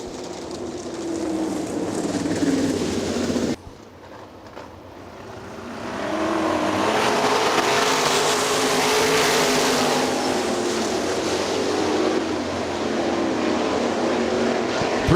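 Outlaw sprint cars roar around the Hartford Speedway oval, their engines a loud, continuous rasp that drops away briefly before surging back and holding steady.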